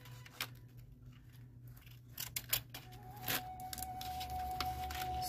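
Scissors trim craft paper for a mini zen garden: a string of crisp, close snips and rustles, with a faint steady tone in the background and no talking.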